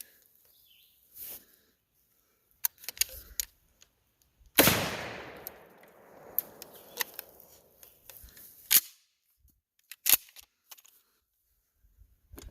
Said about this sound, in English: See if I can shoot one of these boars just to show you the damage it'll do.